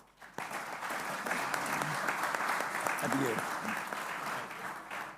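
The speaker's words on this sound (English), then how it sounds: "I would like all of you to give a round of applause to our speakers" A conference audience at a policy forum gives the speakers a round of applause, dense sustained clapping that fills the room at moderate volume, with a few voices audible underneath.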